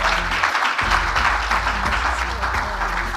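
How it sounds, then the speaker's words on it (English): Conference audience applauding themselves on the closing day, a dense, continuous patter of claps at moderate volume with voices and crowd noise underneath. "Can we give a round of applause to ourselves?"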